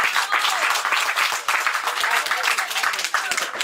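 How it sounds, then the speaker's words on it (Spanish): Applause from a community meeting audience in La Guajira, Colombia, marking agreement at a consultation session: dense, steady clapping from many hands, sustained at a fairly loud, even level for the whole stretch. "démonos un aplauso"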